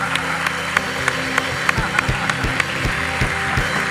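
Applause from the audience on a live talk show, scattered claps over a steady crowd murmur with a voice talking underneath, moderately loud and brief.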